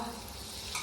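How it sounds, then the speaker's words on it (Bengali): Bottle gourd fritters fry in hot oil in a home kitchen, giving a soft, continuous sizzle and bubbling with a slight stir toward the end. "এই যে বড়াগুলো ভাজা করছি"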